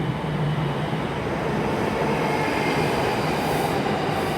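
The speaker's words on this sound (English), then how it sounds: "And coming in now, another pair of 334s." A pair of ScotRail Class 334 electric units rolls into Haymarket station, a loud, steady rumble of wheels on rail with faint squeal, continuous throughout without speech.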